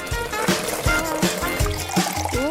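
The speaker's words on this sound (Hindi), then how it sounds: "बस अब इसे पानी देना बाकी है।" Water trickles and dribbles as it is poured onto seeds in soil, with an uneven, splashy flow that runs close and steady for a few seconds.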